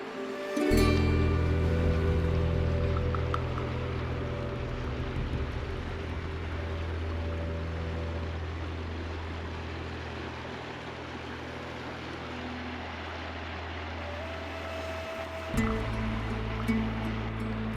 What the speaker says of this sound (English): We got a pretty good river going.